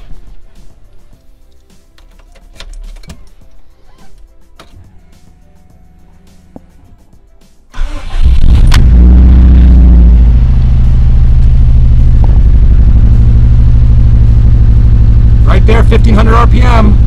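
A car engine with virtually no compression in cylinder 4 cranks and fires abruptly, then settles into a loud, steady cold idle close by, after a quiet stretch of faint noises.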